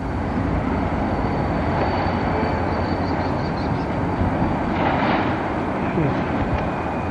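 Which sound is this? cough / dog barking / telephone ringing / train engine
train engine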